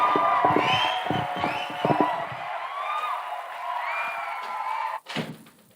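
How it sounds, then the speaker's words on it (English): An audience at a live broadcast from FLX HQ cheers and whoops, with scattered shouts and crowd noise over a few seconds, then a sharp knock near the end as the sound cuts off. "Big round of applause"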